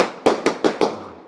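An ordinary gunshot sound effect for a plane shooting game: four sharp, close cracks fired in quick, even succession, each with a short decaying tail.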